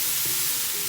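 Teriyaki sauce sizzling on a home hibachi: a steady, loud, hissing fry that fills the whole moment without a break.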